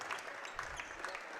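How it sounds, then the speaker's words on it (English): Fans applaud as the starters at a high school basketball game between South Harrison and Maysville leave the floor one at a time, a faint, steady clapping from a gym crowd heard at a distance. "Maysville get the starters out one at a time so they can get some applause from their fans."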